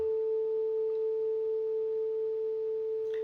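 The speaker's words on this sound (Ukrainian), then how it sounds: "щоб було достатньо одного оберта навколо чаші і вона вже звучала" A singing bowl rimmed with a stick rings with a steady, sustained pure tone, humming evenly throughout with a faint overtone above it, quiet and unbroken.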